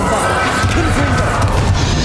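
Bombarda and Confringo spell blasts in a Hogwarts Legacy boss fight crash in a dense, loud game mix, with smashing impacts and a voice calling out spells over the steady din.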